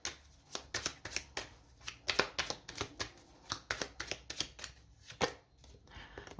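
Tarot cards are handled and laid down in a reading, giving a quick series of crisp papery flicks and slaps at an uneven rhythm, close and fairly clear with no talk over them.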